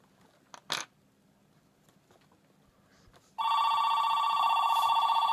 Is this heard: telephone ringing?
yes